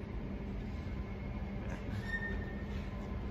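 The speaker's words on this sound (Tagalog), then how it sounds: "diyan dumadaan yung train." Subway train rumbling past a Finch East station, a loud steady roar of wheels on rails with faint squeals, close and without talk.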